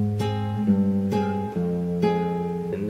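Acoustic guitar picking the intro of a song, steady plucked notes ringing over open strings, with several clear attacks and sustained tones, close and alone without talk.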